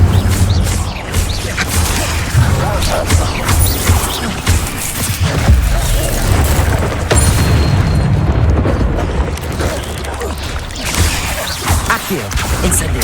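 Incendio fire spell cast in a Harry Potter video game, a loud sustained roaring whoosh of flame with rumbling booms, continuous and close throughout.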